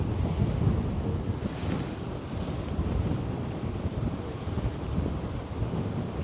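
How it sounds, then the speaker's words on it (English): Steady wind buffeting the microphone at the Westerschelde shore in the Netherlands, a loud low rumble that blusters continuously for several seconds with no voices. "it's too windy to do this."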